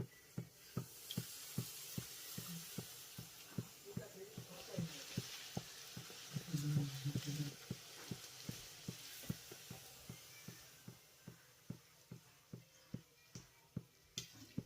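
Luchi puffing in hot oil gives a steady broadband sizzle, punctuated by regular sharp ticks and taps of a utensil against the pan, with no one talking.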